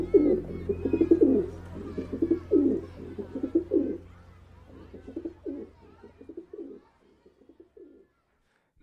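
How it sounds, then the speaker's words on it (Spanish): Rock pigeons cooing in an urban setting, a series of close, low rhythmic coos repeating in bursts, fading toward the end against a faint background hum. "Bien, seguimos con palomas."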